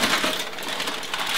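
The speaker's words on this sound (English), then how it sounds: "it's easy to peel the foil down the sides and off the bottom" Aluminum foil is peeled down the sides and off the bottom of a pan of brownies, a close, continuous crinkling and crackling rustle at steady loudness with no talking.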